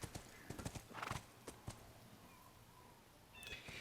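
Horse hooves clip-clop in The Last of Us, a run of crisp, evenly spaced hoofbeats up close that thin out and stop, with faint ambient game sound behind.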